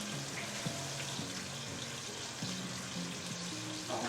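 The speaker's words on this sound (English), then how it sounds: "Oh yeah, you hear that sear, guys?" Salmon searing in an oiled frying pan gives a soft, steady sizzle throughout, faint and close, with a few light clinks over the hiss.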